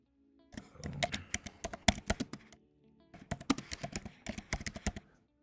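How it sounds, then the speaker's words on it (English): Computer keyboard keys clack in two quick bursts of typing, crisp and close, with a short pause between runs and no talking. "genuine type in there, so you got the keyboard clacks back"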